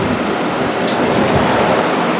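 Coolant pours and splashes steadily as it is purged from a Ford F150 radiator overflow bottle, a dense, even, close-up spattering rush with no voices.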